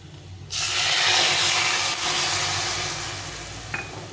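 Milk poured into a pan of frying taro and potato, setting off a sudden loud hiss and sizzle that swells then holds steady for several seconds while the pieces keep frying.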